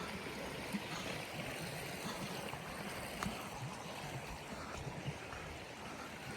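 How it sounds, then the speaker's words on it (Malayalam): A river rushes steadily at the mouth of a cave in India, a broad continuous wash of flowing water, moderately faint and even, with no voices over it. "പുഴ ഇങ്ങോട്ട് ഒഴുകി വരുന്ന ഭാഗം തന്നെയാണ്."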